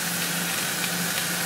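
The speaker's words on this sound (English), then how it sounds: "our meat is cooking up" Ground meat sizzling in a pan for spaghetti meat sauce, a steady, dense crackle and hiss that holds evenly throughout, close and alone with no talking.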